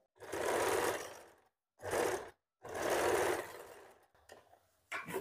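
A sewing machine joins lining to fabric in three distinct bursts of whirring stitching. The bursts are separated by short pauses, followed by a few brief faint clicks, close and moderately loud.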